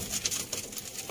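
Pigeons cooing in a breeding loft of Sialkoti 35-wala pigeons, soft repeated coos with faint fluttery sounds close by, no voices.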